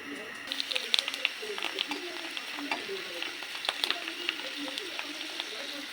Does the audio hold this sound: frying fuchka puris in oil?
yes